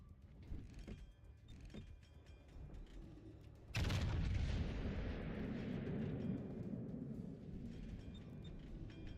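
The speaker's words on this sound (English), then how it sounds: "Toto might go down with this next salvo from the battleship at A for SoA." A battleship's salvo in World of Warships, a single heavy blast midway that rolls into a long sustained rumble over faint background engine and water noise.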